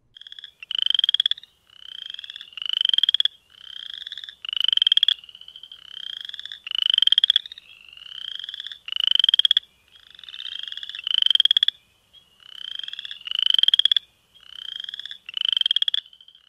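Spring frogs in a Winnebago County wetland give loud, rasping, comb-like trills, one overlapping another in a regular rhythm about once a second, close and clear with no other sounds.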